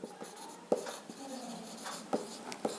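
An equation for the Lorentz inverse transformation written by hand, quiet close pen scratches with a few sharp taps on the surface, no talk.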